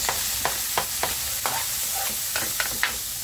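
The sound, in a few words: quick sautéing of onion, tomato and garlic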